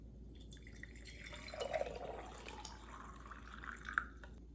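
Hot, just-microwaved boiling water trickles and drips quietly into a cup for turmeric ginger tea, faint and close, with a few small splashes and a brighter drip near the end, no talk.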